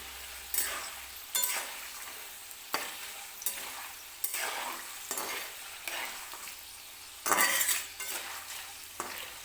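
Urad dal frying in hot oil while being stirred for lemon rice, with a steady sizzle broken by repeated scraping strokes of a spoon against the pan, each one a bright burst, and no voices.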